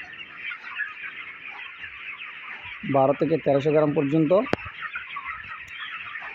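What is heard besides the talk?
26-day-old broiler chickens clucking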